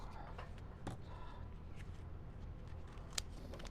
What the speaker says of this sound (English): Cut off all this, all the dry spike already.